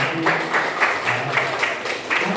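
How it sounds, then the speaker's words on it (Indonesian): A classroom full of students applauds a group with steady, dense clapping that fills the space at moderate loudness. "beri tepuk tangan lagi dong untuk kelompok nanti"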